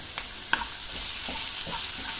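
Potato masala with carrot is sautéed in a pan, a continuous close sizzle broken by several sharp scraping and clinking strokes of a spoon stirring, with no talking.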